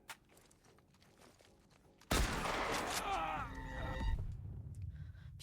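Gunfire in the video game The Last of Us Part 1, a sudden loud burst of shots and chaotic action erupting after quieter footsteps, with sustained noisy intensity.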